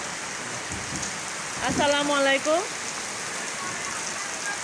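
Steady rain falling on surfaces, an even hiss throughout, with a man's brief spoken greeting partway through.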